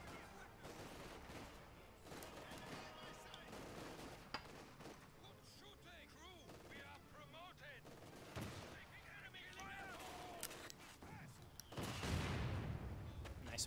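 Mortar fire and battlefield gunfire in Company of Heroes 2, with bursts of shots and thuds over a busy background of combat noise, and a louder blast near the end.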